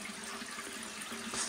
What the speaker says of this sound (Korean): 물 흐르는 소리는 굉장히 많이 나는 것 같은데